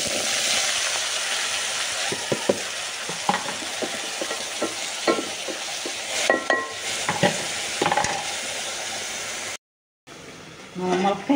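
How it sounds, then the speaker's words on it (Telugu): Bottle gourd pieces sizzle in oil with mustard seeds and cumin while a spoon scrapes and stirs in short repeated strokes, all close and steady, then a brief silent gap before the frying returns. "ఆనపకాయ ముక్కలు వేసేస్తున్నానండి"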